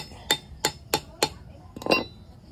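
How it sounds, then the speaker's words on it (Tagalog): A hammer taps a motorcycle stud bolt with a nut threaded onto it, a repair for a stripped thread. Four sharp, evenly spaced metallic knocks ring out close by, followed by a softer clinking jumble. "Hindi ka na matakot magpukpok dito ng martilyo"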